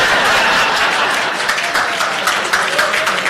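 A conference audience on a main stage applauds loudly for a military branch, with thick, sustained clapping and a few light laughs mixed in.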